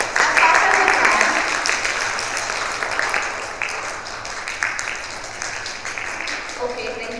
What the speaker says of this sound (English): Can we all clap slowly? Can we clap fast? As fast as we can.